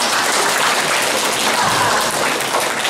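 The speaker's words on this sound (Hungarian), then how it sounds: "Nagy tapsot neked!" Applause for a pupil at a primary school, a short burst of brisk, dense clapping from a group of children, steady and fairly close.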